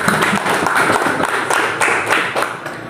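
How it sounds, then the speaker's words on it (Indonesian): A class of new junior high students claps together in a classroom, a loud, dense patter of hands that swells and dips in uneven bursts across the whole stretch. "Tepuk tangan semua dulu."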